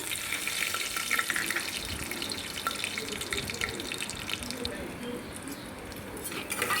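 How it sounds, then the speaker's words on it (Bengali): Whole spices fry in hot oil inside a pressure cooker, making a constant, bright sizzling hiss at close range that barely changes throughout, with no talking. "গোটা মশলাগুলো আমি কুকারের মধ্যে দিয়ে দিলাম"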